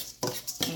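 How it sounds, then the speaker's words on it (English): Yellow rice with butter being stirred in a pan on high heat, with two quick scraping utensil strokes against the pan over a faint sizzle, close and fairly quiet. "Okay, so I'm stirring it. If you can hear it start to like sizzle because I have it on high."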